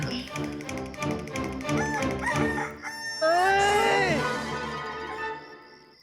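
A chicken gives one loud, drawn-out crow in the second half, after a stretch of busy rhythmic tapping and tonal sounds, in a royal-court comedy scene.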